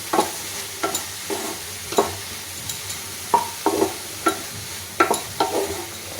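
Onion and garlic sizzle in melted butter in a pan for butter garlic mushrooms, with a soft continuous fry under repeated sharp scrapes and clinks of a stirring spoon.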